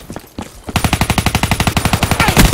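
AK rifle fire in Call of Duty Black Ops 3, a loud rapid automatic burst of about twenty evenly spaced shots after a brief quieter moment.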